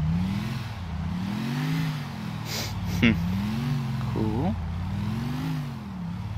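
A truck engine in Grand Theft Auto 4 drones and rises and falls in pitch as it revs while driving, loud and steady, with brief talk and a few game sound effects over it.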